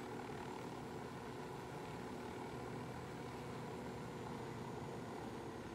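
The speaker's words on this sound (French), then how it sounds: "Il y a un hélico." Helicopter in the video game Ghost Recon Wildlands, a faint, steady rotor and engine drone continuing without a break.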